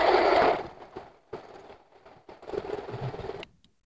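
A sewing machine stitches through doubled, soft satin fabric in short runs, a loud burst at first, then a brief run and a longer steady stretch that stops abruptly.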